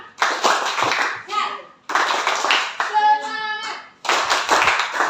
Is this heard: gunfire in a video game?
no